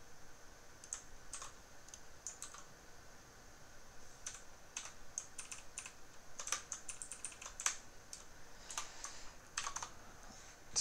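Steady typing on a computer keyboard while writing operating system code, a quiet run of close, irregular key clicks in bursts with short pauses, no talking.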